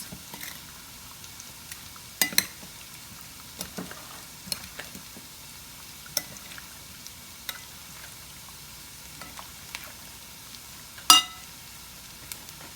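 Salt is stirred into a cooking dish: sparse, sharp clinks and scrapes of a utensil against the pot, spaced irregularly over a quiet background, with one louder clatter near the end.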